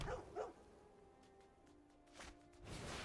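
A dog barking sound effect in the MTG Arena card game, two quick faint barks at the start followed by soft game clicks and chimes.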